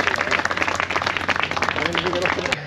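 An audience breaks into brisk applause, a loud scatter of clapping hands mixed with voices talking over it throughout.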